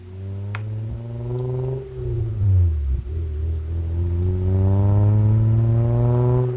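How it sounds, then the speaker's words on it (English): A motorcycle engine in a video game drones loudly, dips low as it slows, then climbs again in a rising, steady rev. "Sounds like a motorcycle."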